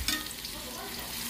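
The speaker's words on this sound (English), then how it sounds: "light saute, olive oil." Chicken pieces sauté lightly in olive oil in a frying pan. A faint, steady sizzle runs throughout, with a brief clatter at the start and no speech.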